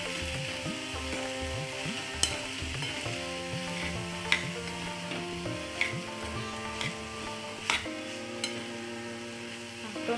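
Tomatoes sizzle and fry in a pan as a spoon stirs them, with a steady hiss and occasional scraping clicks and knocks against the pan, close and alone.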